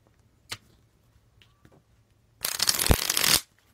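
Tarot cards being shuffled by hand in a dense, riffling burst of about a second, preceded by a couple of soft taps and handling noises in a quiet room.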